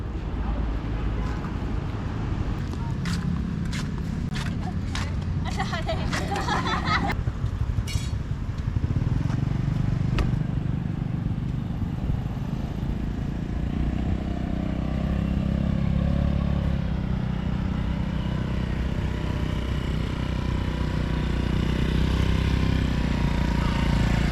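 A motorcycle rides slowly around a licence-test course in Vietnam, its throttle held at one steady level while the speed is controlled with the rear brake. The engine hums at a constant low drone with wind and some clatter, with no talk.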